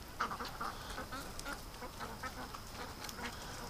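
Ducks raised for charity, heard faintly in the distance giving scattered quacks over a hissy outdoor background near water at dawn.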